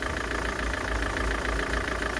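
A Corvette C5 engine idles steadily at around 500 rpm, a continuous low rumble with an even, unbroken drone and no voices over it.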